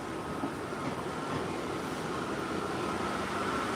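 A Red Line 18 series subway train on the Ashmont branch rolls by, giving a continuous loud rumbling roar with rattling wheel noise and no talk.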